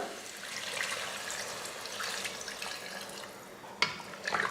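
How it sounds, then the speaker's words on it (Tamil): Water poured from a tap or jug into a pan of mutton curry whose masala has cooked down, giving a steady soft stream with a few sharper splashes near the end. "இப்போ தண்ணி சேர்த்துக்கலாம்"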